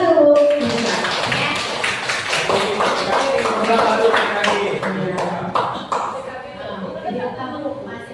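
An audience claps during a teacher-training dissemination session: a dense, steady patter of many hands that fills the whole stretch, mixed with chatter and voices.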